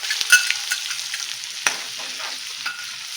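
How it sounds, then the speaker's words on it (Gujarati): Finely chopped green chili and grated ginger sautéing in hot oil for kachori stuffing, a bright crackling sizzle with a few sharp spatters and stirring scrapes, fairly close and alone. "સરસ આપણે સાતળી લેવાનું પહેલા"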